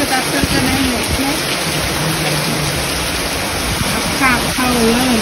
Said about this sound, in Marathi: बघू शकता आमच्या इकडे कसा पाऊस पडलाय